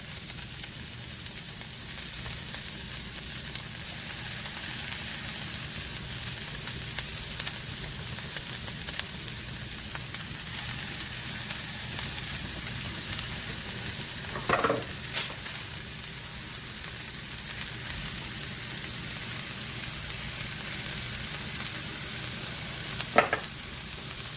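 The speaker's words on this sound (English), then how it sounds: "Okay guys, I'm gonna put my cabbage in. I'm gonna cover it like that." Cabbage sizzles steadily in a hot pot for Jamaican steamed cabbage, a constant crackling fry with occasional clanks of the pot and lid as it is stirred and covered.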